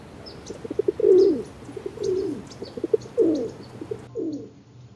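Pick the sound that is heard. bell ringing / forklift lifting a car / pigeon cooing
pigeon cooing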